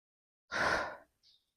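One forceful, breathy exhale during an interval workout, close and loud, followed by a faint short breath a moment later.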